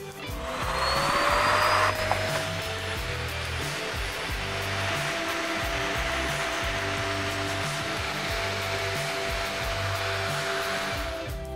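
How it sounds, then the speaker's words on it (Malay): A power tool with a mosaic cutting blade cuts cement board while a vacuum extracts the dust, making a loud continuous whining roar with a steady motor drone and a slight pitch shift early on. "Sebab semua habuk halus ni dah masuk ke dalam vacuum."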